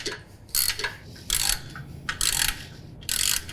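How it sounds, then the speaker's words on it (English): A ratchet fitted with a 13mm socket tightens nuts while a John Deere Z5 zero-turn mower toolbox is mounted, giving four short bursts of rapid clicking separated by brief pauses, close and clear. "all we're going to need to tighten those up is going to be a ratchet with a 13mm socket"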